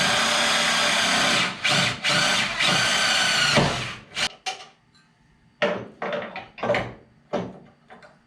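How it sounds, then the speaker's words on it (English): A power drill whines continuously and loudly up close, boring a hole through a metal oil cooler mount, then cuts into shorter, stuttering bursts as it bores through. "I'm just gonna drill the hole straight through"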